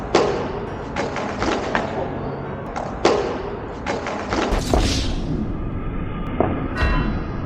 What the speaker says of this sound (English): my worst crash that day was actually this one